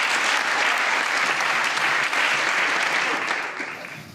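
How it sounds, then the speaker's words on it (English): A comedy club audience breaks into loud, sustained applause, a dense even wash of clapping that holds steady before fading slightly toward the end. "Can we have a huge round of applause for him?"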